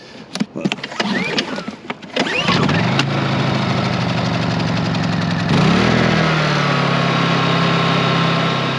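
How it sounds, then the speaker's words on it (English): A brand new portable generator starts up outside a mine adit, with sharp clattering at first, then settling into a loud, steady engine drone that rises slightly in pitch and stays close and constant. "Brand new generator."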